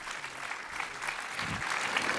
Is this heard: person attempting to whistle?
no